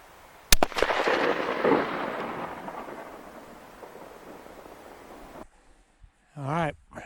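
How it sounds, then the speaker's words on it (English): A single rifle gunshot fired at a target 100 yards away with a flashlight mounted on the scope, a sharp crack followed by a long rolling echo that fades, then a brief voice afterward. "First shot's going to be at 100 yards, and we're going to flip this flashlight on this scope and see if we can hit it."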